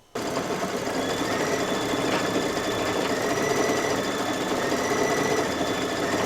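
An embroidery machine stitches a cherry-leaf design over the top of fabric, starting abruptly and then running steadily with a loud, even, rapid mechanical hum throughout.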